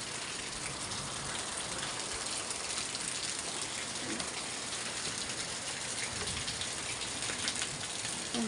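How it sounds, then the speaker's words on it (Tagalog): Heavy rain pouring down steadily, a dense, loud, unbroken hiss of drops drumming on surfaces throughout. "Lakas po ng ulan."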